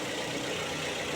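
A car engine runs steadily at close range, a continuous dense mechanical hum with no talk over it.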